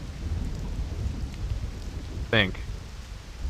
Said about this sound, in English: I like this thunderstorm. Like, the ambient audio for this area is really nice.